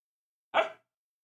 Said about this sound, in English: Oh, there's a bark.